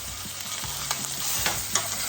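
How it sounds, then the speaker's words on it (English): A beef roast sears in olive oil in a skillet, giving a steady, close sizzle with a few soft stirring or shifting scrapes over the top, and no voices. "you're gonna turn your roast and add another couple of tablespoons of olive oil and sear the backside"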